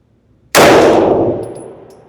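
A single loud rifle shot from a Shadow Systems CR920XP strikes a steel target at 15 yards, a sharp clang that rings out and fades over about a second and a half, with no one talking.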